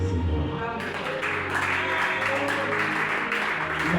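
A church congregation claps together in praise, a dense and steady applause that starts suddenly and carries on, with voices and music mixed underneath.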